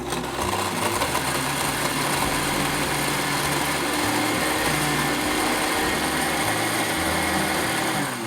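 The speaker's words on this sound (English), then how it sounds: "We are going to blend for about 5 to 7 seconds, thereabouts." A blender whirs steadily and loudly through a cup of crushed ice for a tropical cocktail, its motor a sustained high-pitched grinding drone with a rattling undertone that runs unbroken throughout.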